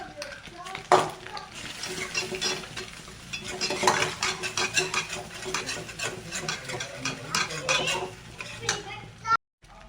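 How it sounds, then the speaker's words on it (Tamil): Ginger garlic paste sautéed in a pan, with a spatula stirring and scraping the metal in quick, busy strokes and a faint sizzle underneath, close and steady throughout. "இப்போ பார்த்தீங்கன்னா இஞ்சி பூண்டு வதங்கிடுச்சு"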